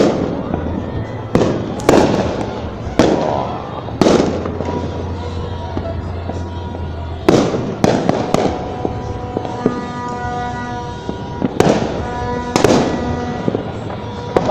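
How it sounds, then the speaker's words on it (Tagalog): Repeated loud New Year fireworks bursts in the Philippines, sharp bangs and crackles at irregular intervals, with a low rumble and faint background voices between explosions. "Ah, may fireworks na."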